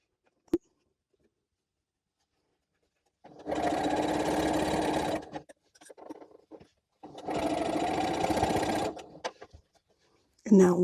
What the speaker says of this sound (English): And then all we have to do is sew this on.